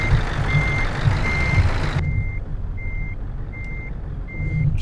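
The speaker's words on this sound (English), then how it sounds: "Backing up a truck is not necessarily easy." A truck's reversing alarm in Euro Truck Simulator 2 beeps in a steady, evenly spaced series of loud, sharp tones over a continuous low engine rumble.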